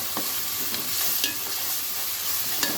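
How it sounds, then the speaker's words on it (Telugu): Onions frying in a pan of curry, salted, giving an even, continuous close-up sizzle with a few faint ticks of the pan, no one speaking. "వేగిపోయింది ఉల్లిపాయ."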